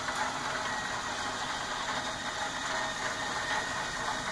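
A heavy-duty 20 kilo rotisserie motor on a Cyprus Grill CG0800A churrasco charcoal grill turns kebab skewers and long spits, making a continuous, close mechanical whir with faint ratcheting clicks and no voices.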